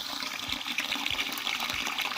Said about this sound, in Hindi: चावल को उतनी देर हम अच्छे तरीके से धो के इसको भिगो देते हैं।